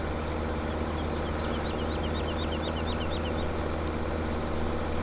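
Tractor engine in Farming Simulator 17 labouring up a small hill, a steady low drone and rumble throughout, with faint chirping sounds over it and no talk.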